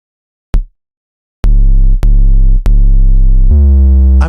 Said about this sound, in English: I'm noticing an unwanted clicking noise in the sub-bass.